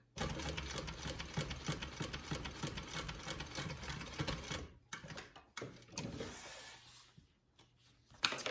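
A sewing machine stitches fabric in a fast, steady mechanical whir for about five seconds, then stops and gives a few short starts before going quiet, heard up close with no talking.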